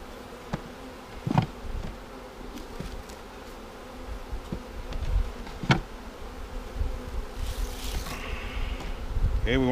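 Honey bees from a package hive buzz around the open colony while they bring in pollen, a soft continuous drone with occasional louder passes close by and faint handling knocks outdoors.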